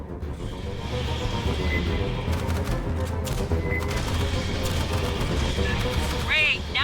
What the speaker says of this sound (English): Must have heard the gunfire.